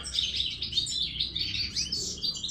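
Captive goldfinches being fed a fresh nettle plant chirp and twitter continuously in dense, overlapping bright calls, close and steady with a soft low rumble beneath and no voices.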